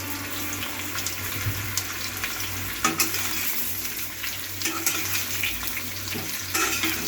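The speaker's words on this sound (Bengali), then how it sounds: "ফোড়ন পুরো ভাজা হয়ে এসেছে, এবার আমি কাঁচা আমগুলি ঢেলে দেবো আস্তে আস্তে" Raw mango pieces hit hot oil with fried panch phoron spices, giving a steady close sizzle broken by a few sharper scraping and stirring clatters, without any voices.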